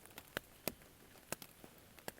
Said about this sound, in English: Got a little pitter patter rain going.